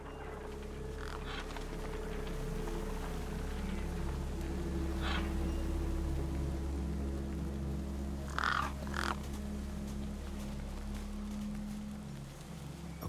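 Crows caw in the video game Beyond a Steel Sky, with a few harsh calls rising over a steady low ambient hum, a short burst midway and a louder pair later on.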